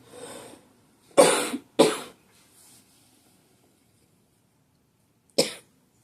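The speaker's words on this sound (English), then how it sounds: "This cough is terrible." Several dry coughs from one person, a short burst near the start, two sharp hacks in quick succession, then a single cough a few seconds later after quiet, close and fairly loud.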